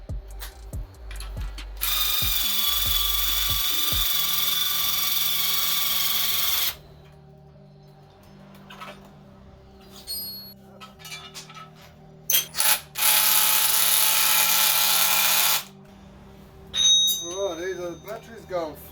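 A battery power tool pushes a suspension bush out of a cheap VL Commodore. Its steady motor whine runs in two long bursts, one of about five seconds and a shorter one later, with clicks and handling noise between them.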